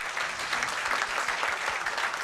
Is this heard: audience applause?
yes